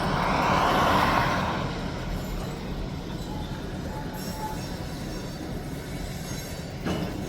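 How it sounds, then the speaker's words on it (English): A freight train being assembled for the mill rumbles along steadily at moderate distance, with a brief wheel squeal early on, continuous rolling rail noise and faint voices in the background. "Looks like they're building a train to go to the mill."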